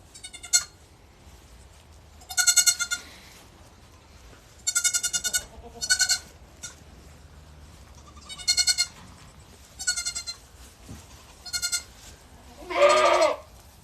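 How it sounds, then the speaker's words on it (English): A goat in a maternity barn on a farm with over 250 goats gives a series of loud, close, raspy bleats, about eight separate calls spaced over several seconds with quiet gaps between, one unusually deep and growly like a Wookiee. "She's the Chewbacca goat."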